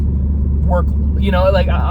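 A car goes by as a low, steady road rumble under someone talking nearby.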